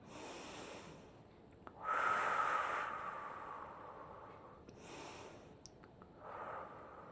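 Slow, close breaths during a gentle morning hatha yoga exercise, several soft inhale-exhale cycles with airy nasal rushes and quiet pauses between them.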